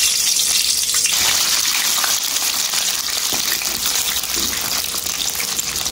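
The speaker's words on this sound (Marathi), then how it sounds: "त्याच्यामध्ये हिरवी मिरची टाकायची, इथे तेलामध्ये मिरची टाकायची" Green chillies frying in hot oil in a kadai, a dense, steady sizzle with a bubbling, gushing quality that stays loud and close throughout.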